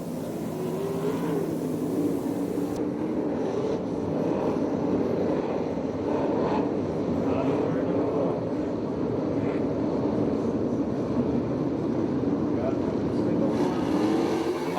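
Sprint cars of the ASCS Canyon Region racing on the dirt track at Perris, California, roar together as they accelerate back to racing after a restart, a loud sustained engine drone with a commentator talking over it.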